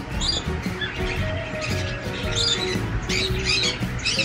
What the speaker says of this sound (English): We got a bunch of birds.